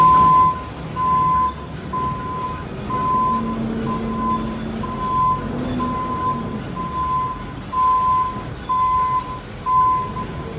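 A forklift works on a farm, turning and manoeuvring with a loud intermittent reversing beep sounding in an even repeating rhythm over a low engine rumble and broadband outdoor noise.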